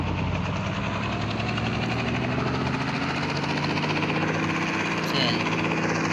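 A helicopter engine runs steadily after landing, a continuous close, loud drone with whining tones that stays level throughout.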